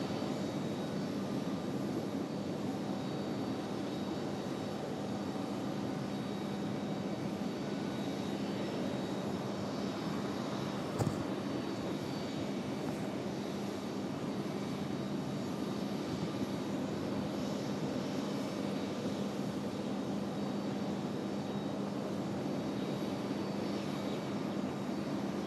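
A JetBlue airliner departing Raleigh Durham for San Juan, Puerto Rico, its engines producing a steady, distant broadband roar that holds evenly throughout, with one brief sharp click midway.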